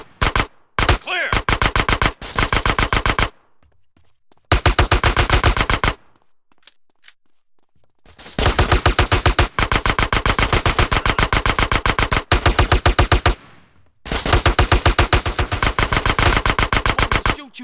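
Machine gun fire in GTA San Andreas, loud rapid automatic bursts of several seconds each, separated by short pauses and a few isolated shots, close and alone without talk.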